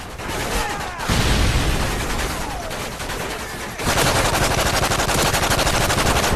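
Rapid automatic gunfire in a Modern Warfare 3 Infected match, loud dense bursts that stop briefly and then resume even heavier, with no voice over it.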